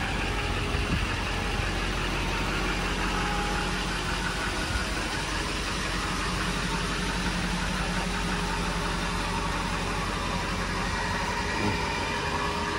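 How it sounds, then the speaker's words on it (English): A 2006 Chevrolet Silverado with an LBZ Duramax diesel idling on its stock exhaust with emissions equipment removed, a steady, low, rumbling drone, constant and close, with no other sounds. "That's the stock exhaust sound with no emissions."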